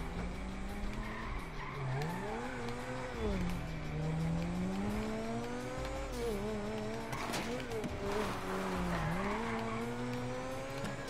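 A car in Grand Theft Auto 5 drives fast with its engine revving up and down while the tires squeal and skid repeatedly, a steady loud whine running through the whole stretch.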